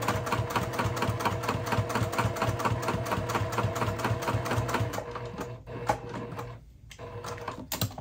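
A sewing machine stitches fabric for a spell book notepad holder at a long 4.5 mm stitch length, running in a steady rapid rhythm for several seconds before slowing, pausing and briefly restarting, close and alone.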